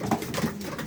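Racing pigeons coo inside a roundabout loft. Several soft, low, rolling calls repeat close by against a steady background hum.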